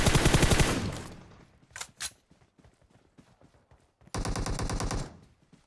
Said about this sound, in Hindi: मेरे को अभी गन में से सिर्फ एकेएम की आवाज आई